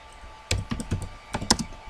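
Quick taps on a computer keyboard, a short burst of several close, light keystrokes in an irregular rhythm during a podcast.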